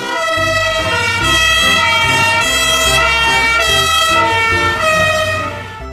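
A toy fire truck blares its electronic siren, a loud, continuous wailing tone with repeating rises, steady and close with no talk over it.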